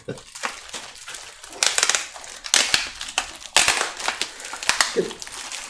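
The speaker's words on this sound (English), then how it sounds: "A little bit of tape rippage." Tape being ripped off props in a series of close, sharp tearing and crinkling bursts of uneven rhythm, with brief pauses between pulls.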